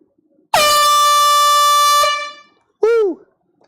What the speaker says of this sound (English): I was blowing the air horn for the sale